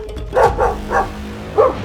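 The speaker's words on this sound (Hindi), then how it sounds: "अरे बाप रे, ये कुत्ता यहाँ तक आ गया" A cartoon dog barks three times in quick succession, the barks loud and close with short gaps between them and no talking.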